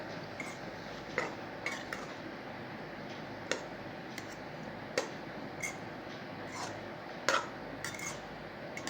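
A spatula scrapes and taps through egg fried rice tossed with masala in a pan, giving scattered sharp metallic clicks over a soft, steady background, close and moderately quiet.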